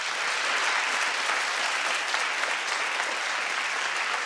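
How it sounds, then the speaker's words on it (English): A television studio audience applauds continuously, a dense, steady wash of many hands clapping at even loudness from start to finish. "Clap if you don't care about that music career."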